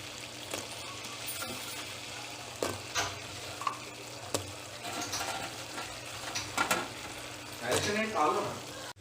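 Veg Manchurian balls added to a thick hot sauce in a pan, stirred with steady scraping and a soft bubbling sizzle, with louder stirring bursts near the end.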